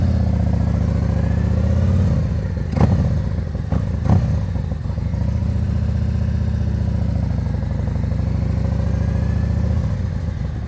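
Close, steady motorcycle engine rumbling at low speed through a U-turn on a road, with a few brief clatters and bumps midway.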